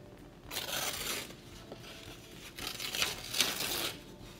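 Paper is torn by hand for a craft project: two bursts of ripping, one about a second long and a longer one after a pause, faint and close.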